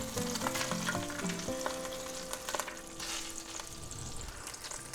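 Slices of already cooked ham browning in a frying pan for an egg, ham and cheddar sub sandwich, giving a steady close sizzle with faint utensil clinks and no talking.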